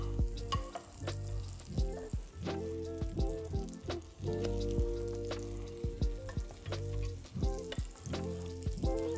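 Coated chicken for a French toast chicken sandwich dropped into hot oil, a loud close crackling sizzle with bursts of bubbling and popping that keeps going steadily, no voices.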